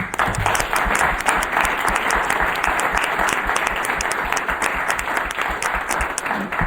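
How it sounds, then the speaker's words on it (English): A large crowd applauds loudly and steadily, dense clapping sustained the whole time with no pauses. "ask everyone to give you a big round of applause."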